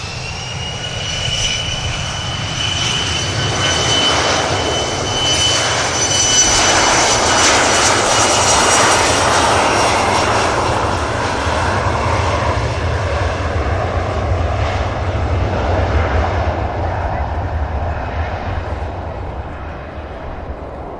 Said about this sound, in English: Logan Air just about to spool up now.